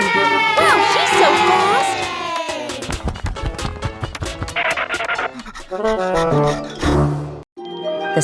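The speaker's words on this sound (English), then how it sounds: "The cheers from the crowd get louder" A cartoon crowd cheers and shouts at a race. The cheering is loud and busy at first, then breaks into scattered yells, panting and running effects.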